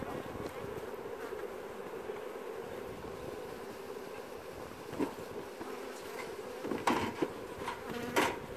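A steady buzzing drone of many honeybees on hive frames fills the air up close, with a few louder bumps and rustles rising briefly near the end.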